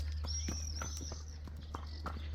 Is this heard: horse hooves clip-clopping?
yes